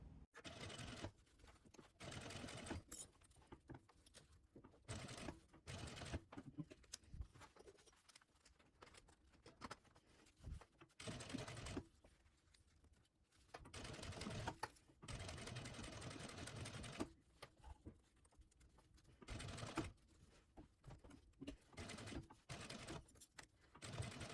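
A sewing machine stitches the seam of a sling bag's lining in quiet bursts of fast, even whirring. The runs start and stop repeatedly, with short pauses between them.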